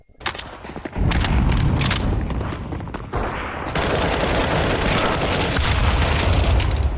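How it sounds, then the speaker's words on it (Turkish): A heavy, continuous roar of blasts and booming gunfire from Counter-Strike 2, with a bomb explosion, dense and loud, with brief dips before the barrage resumes. "bombanın patlama efekti gerçekten çok iyi"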